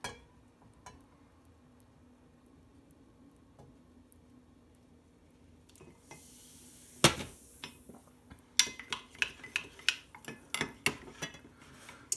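A metal spoon stirs half a teaspoon of baking soda into a tablespoon of boiling water in a small cup, giving quiet scrapes and then a run of sharp, quick clinks against the sides, close and alone.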